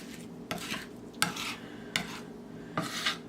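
A knife blade scrapes and chops across a cutting board through garlic for habanero garlic butter wings, giving four distinct scraping strokes about a second apart. Each stroke is loud and close, with a soft sizzling background underneath.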